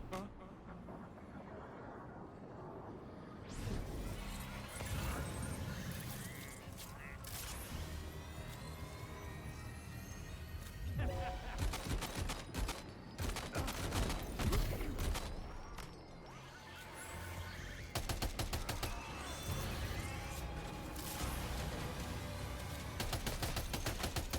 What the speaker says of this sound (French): J'essaye la mitrailleuse, elle a pas mal de recul, merde.